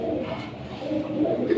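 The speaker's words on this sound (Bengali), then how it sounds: "খুব সুন্দর এক জোড়া কবুতর" A pair of Gola pigeons coos softly and close by, a low, repeated burbling with a few brief swells toward the end.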